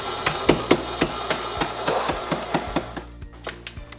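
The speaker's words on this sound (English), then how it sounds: "gonna crush some Oreos for the top of the cake" Oreo cookies are being crushed for a cake topping with repeated sharp pounding blows, about a dozen steady close thuds under a running mixer hum.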